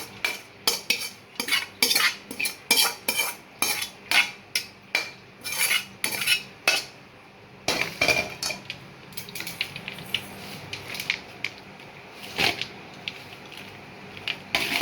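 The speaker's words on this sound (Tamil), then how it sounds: "இதை வந்து இப்படி சாப்பாட்டில் போட்டு கலக்கலாம்" Coconut rice being mixed by hand or spoon, cooked rice tossed with grated coconut mixture in a vessel, giving a steady run of close, rhythmic scraping and clinking strokes with brief pauses and no talk.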